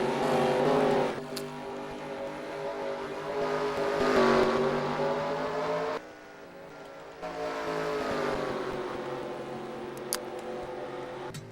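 Race trucks at Phoenix in a SCRL Rainbow Dash Truck Series sim race roar past in waves, engine pitch rising and falling as they pass close by, a dense continuous drone with brief dips, no voices.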